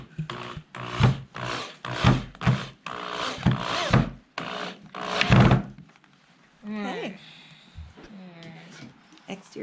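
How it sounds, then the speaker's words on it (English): A power drill drives exterior deck screws into a wooden barn gate in several close, loud bursts of whirring and thudding. A short pause follows, then a person speaks briefly. "So now we'll add screws and seal everything."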